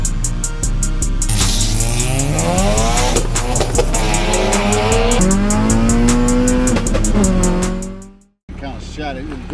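Honda Accord with an F22 engine and cheap intake revving hard, repeated climbing and falling revs, loud and close, cutting off abruptly near the end, with people talking over it.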